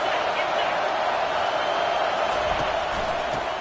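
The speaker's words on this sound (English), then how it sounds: "This crowd trying to make life miserable for this offense." A stadium crowd in the NCAA 25 college football video game roars in a steady, loud wall of noise while a commentator talks over it.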